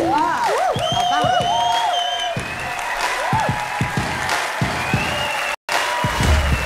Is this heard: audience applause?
yes